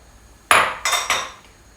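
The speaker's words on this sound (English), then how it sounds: "I'm going to mix my butter" Butter and sugar being worked together in a mixing bowl for Jammie Dodger biscuits, heard as a few sharp utensil knocks and clinks against the bowl, close and fairly loud, with no talking.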